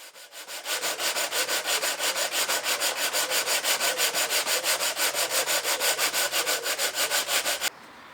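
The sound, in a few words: hand sanding plywood with 80-grit sandpaper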